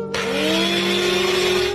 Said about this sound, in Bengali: এবার আমি এগুলো ব্লেন্ডার করে নেই।